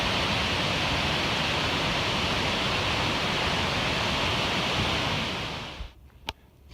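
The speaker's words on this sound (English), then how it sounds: "Another segment of this river, fast moving and" A fast-moving river with a lot of water pouring through gives a loud, steady, close rushing roar that cuts off abruptly near the end.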